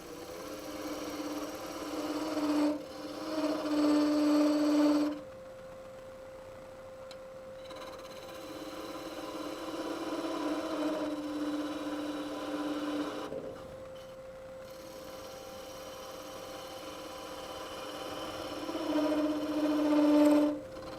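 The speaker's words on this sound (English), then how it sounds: "on the top, I'll use my parting tool and get rid of a lot of that tenon." Wooden tenon being cut down with a parting tool on a wood lathe during a multi-axis turning demonstration: a steady humming whir under scraping, rasping cuts that swell in bursts at the start, middle and end.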